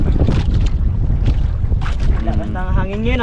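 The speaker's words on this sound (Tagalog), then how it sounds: "Lakas ng hangin yun, ah." Strong wind at sea buffets an open fishing boat, a loud, rough roar of gusts against the microphone mixed with engine and water noise, with voices talking throughout.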